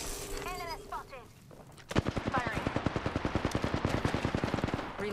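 Gunfire in the shooter game Apex Legends: after a short voice callout, a loud, rapid stream of automatic shots begins and continues steadily at an even rhythm to the end.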